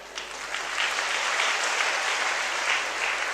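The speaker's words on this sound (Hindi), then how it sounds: "इसलिए मैंने ताली बजाई।" A man claps his hands in steady applause for about three seconds, a dense run of close, bright claps with no talking.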